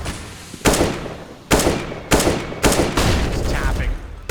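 Gunfire in Counter-Strike: Global Offensive, several loud, sharp bursts of shots arriving close together in irregular rhythm, each decaying briefly before the next volley.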